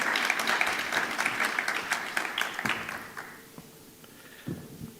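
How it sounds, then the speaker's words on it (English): A summit audience gives another round of applause, loud dense clapping that fades over a few seconds, leaving scattered claps and quiet room noise. "I think another round of applause."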